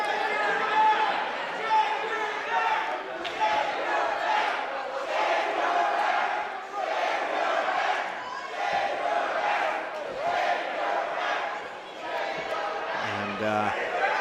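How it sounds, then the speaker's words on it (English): Wrestling crowd in Airway Heights chanting together, a dense roar of many voices rising and falling in rhythmic waves, loud and continuous throughout, with a few sharp thuds near the end. "Not the most flattering chant from the crowd here in Airway Heights"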